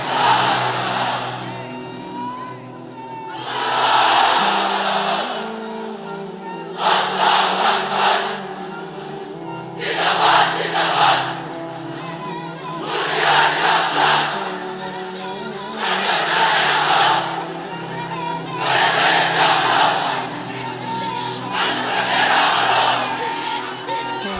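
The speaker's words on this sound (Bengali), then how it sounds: "এক একটা তাকবীরে যাতে এই প্যান্ডেল কেঁপে ওঠে।" A large crowd at a religious gathering under a pandal roaring the takbir in repeated loud, rhythmic waves of chanting, each shout separated by short pauses, with echoing, strained voices.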